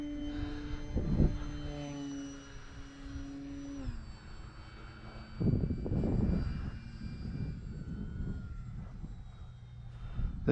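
A Durafly Tundra RC model plane doing a touch and go on a sunny runway, its electric motor whining at a steady pitch that drops and swells as it passes, with wind noise and no talking.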